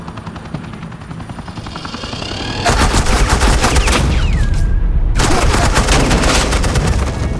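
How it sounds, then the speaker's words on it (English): Suppressing gunfire in Batman The Enemy Within, with a low mechanical drone at first, then loud, rapid automatic bursts that stop briefly and resume, close and dense. "This is Agent Quinn, suppressing fire."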